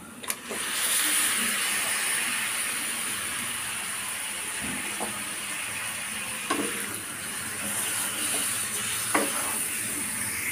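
Half a kilo of chicken frying in oil with kasuri methi for chicken handi, stirred in a pan: a steady, close sizzling hiss broken by occasional scraping taps of the spoon.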